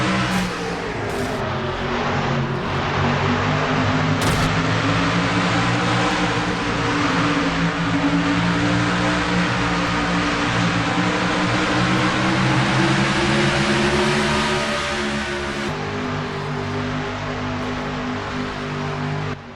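Onboard Seth Cole's race car in an NNSCRA Castrol GTX Cup Series race at the Tyson Holly Farms 400, a loud, sustained engine drone with shifting harmonic pitch as it accelerates through laps, heard up close with no talk.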